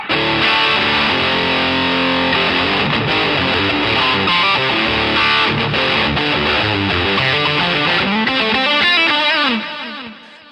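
Electric guitar runs through a Boss HM-2 Heavy Metal distortion pedal boosted by a Jackson Audio Broken Arrow, loud, saturated chugging riffs and sustained chords filling the whole span before ringing out and fading at the end.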